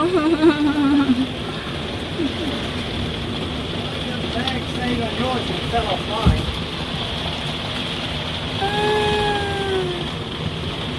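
Steady rain falls on a wet road during a countryside bicycle outing, a dense, even hiss lasting throughout, with voices talking over it and a brief sharp knock near the middle.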